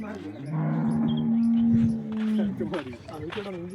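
Cattle moo at a cow sale in Jamnagar, one long sustained bellow followed by shorter lowing calls, close and loud, with people talking in the background.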